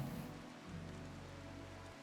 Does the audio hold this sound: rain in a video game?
yes